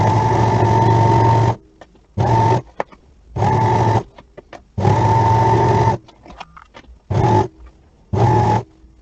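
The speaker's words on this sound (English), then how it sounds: "a stretch stitch on your sewing machine is perfectly fine" A sewing machine runs a stretch stitch down a sleeve seam in loud, fast whirring bursts of one to one and a half seconds, separated by short pauses with faint clicks and handling noise.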